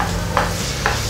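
Ground small shallots with ginger and garlic fry in a pan for a biryani-style tomato rice. A steady, fairly loud sizzle is broken by two brief scraping stirs.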